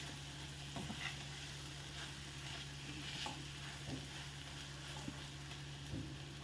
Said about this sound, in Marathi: तेल छान सुटलेलं आहे, मसाले मस्त परतून झालेले आहेत.